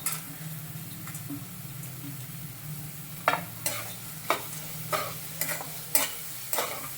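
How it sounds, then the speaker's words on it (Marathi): Peanuts tossed into a pan of cooked tomatoes sizzle quietly under a steady low frying hiss, with a series of sharp stirring scrapes and clicks from a spoon in the second half. "शेंगदाणे टाकून परत एकदा परतून घेतलं"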